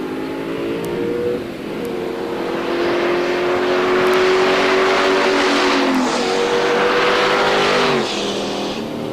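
Drag racing cars from a 2003 event at Norwalk roar loudly through morning qualifying runs, engines revving hard and steadily for several seconds with rising pitch and shifts, no voices.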